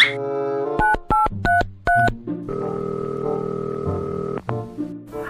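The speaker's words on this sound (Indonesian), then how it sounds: "Gua telepon dulu dah." A telephone being dialed for a call: a quick run of distinct DTMF keypad tones, then a steady dial or ringing tone, clear and close with no talking.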